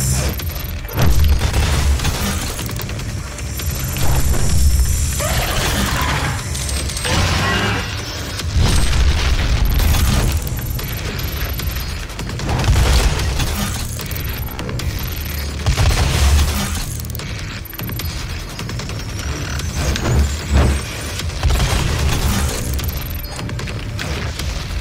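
Rocket launcher explosions in the game Doom on Nintendo Switch: loud, booming blasts repeating every few seconds, each with a heavy low rumble and crackling debris, among mechanical game sounds.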